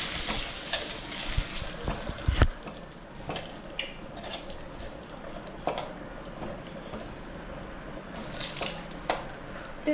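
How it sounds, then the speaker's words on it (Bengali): Bay leaves fry in hot oil in a home kitchen, a continuous soft sizzling hiss with scattered clinks and one sharp knock, close and fairly loud, with no speech. "তেজপাতাটা একটু ভাজা ভাজা হোক"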